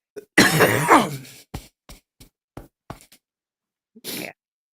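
A person coughs and clears their throat, a harsh burst followed by several short, sharp coughs spaced apart, then one more rasping cough after a pause, close and loud.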